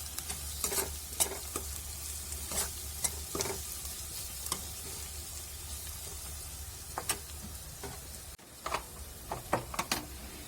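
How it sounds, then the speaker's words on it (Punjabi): Ginger garlic paste sautés in a pan, giving a soft continuous sizzle. Sharp, irregular spatula scrapes and stirring knocks sound close by throughout. "ਅਦਰਕ ਅਤੇ ਲਸਣ ਦਾ ਪੇਸਟ ਪਾ ਦੇਵਾਂਗੇ ਦੋ ਮਿੰਟ ਲਈ ਇਹਨਾਂ ਨੂੰ ਇਸੇ ਤਰ੍ਹਾਂ ਭੁੰਨਾਂਗੇ"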